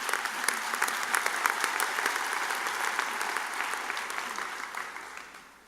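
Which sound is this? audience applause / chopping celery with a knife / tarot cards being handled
audience applause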